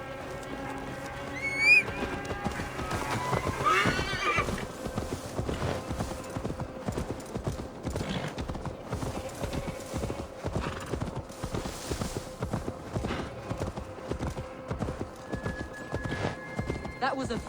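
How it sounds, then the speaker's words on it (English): Steady rhythmic hoofbeats of a horse galloping in Assassin's Creed: Valhalla, with a brief whinny near the start, while someone speaks over the clip-clop. "Now to deliver Magni his horse"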